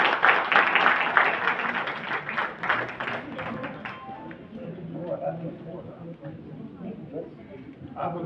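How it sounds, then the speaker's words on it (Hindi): Audience at a women's achievement award ceremony applauding film producer Mukesh Pandey, loud clapping that fades after a few seconds into quieter room noise with voices. "इनके लिए जोरदार तालियां बजाएं।"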